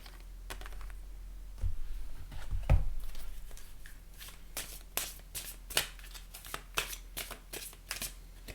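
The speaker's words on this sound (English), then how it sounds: "let's pull you an oracle card" Oracle cards are shuffled by hand, producing a quiet run of crisp riffling flutters and taps that grow more frequent toward the end, close and without talk.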